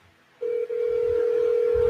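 A telephone line sounding a steady, continuous electronic tone that starts abruptly and holds loud and close, with a faint low rumble beneath and no talking.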